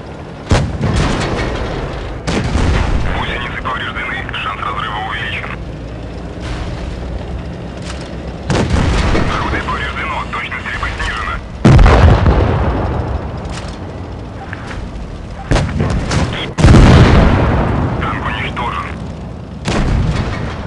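Tank cannon shots in the mobile game World of Tanks Blitz, a series of loud booming blasts at irregular intervals, each followed by rumbling decay, with brief voices in the clip.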